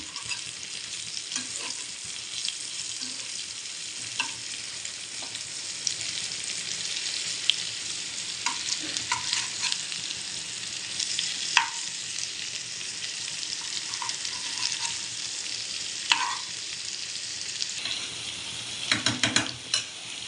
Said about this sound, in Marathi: सगळे असे छान फिरवून घेऊया आपण